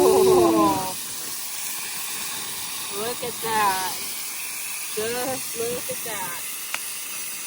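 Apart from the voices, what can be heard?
steak, onions and bell pepper sizzling over fire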